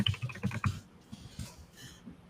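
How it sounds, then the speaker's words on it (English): Rapid keystrokes on a computer keyboard as a password is entered, a quick close burst of clicks that slows into a few scattered taps, with no talk. "I'll type in my password."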